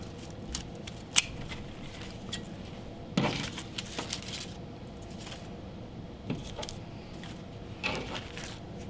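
Scissors snip through a brown paper lunch bag in a handful of separate crisp cuts with rustling paper between them, close but quiet, and no one speaks.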